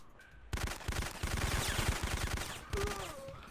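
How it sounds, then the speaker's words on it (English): Rapid automatic gunfire from the video game Syphon Filter on PS4 erupts after a brief quiet start, loud dense bursts rattling for about two seconds, then tapering into lighter shots and game sounds. "And how many times do I gotta shoot him?"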